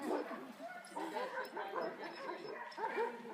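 Sled dogs in Alaska bark, yip and whimper in quick overlapping bursts, fairly faint and close, with a person talking among them.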